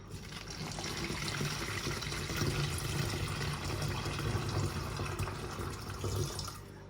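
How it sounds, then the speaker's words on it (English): Continuous splashing rush of 600 ml of water being poured through a funnel onto citric acid in a container, steady and close for several seconds with no speech. "we need to add 600 ml of water to 200 grams of citric acid."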